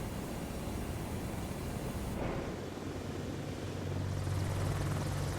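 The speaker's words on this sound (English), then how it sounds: "Echo 19 is the one that did the audio for this helicopter, and it's absolutely amazing" An AH-64 Apache helicopter in the MSFS 2024 flight simulator hums with a continuous, close rotor and turbine drone that swells slightly near the end.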